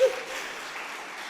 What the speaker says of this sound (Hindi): आपने तो ताली बजाई, किया तो नहीं?